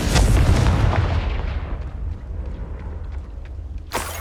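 A Confringo fire-spell explosion in Hogwarts Legacy: a loud, deep boom that rolls off into a long fading rumble, followed by a sharp crack near the end.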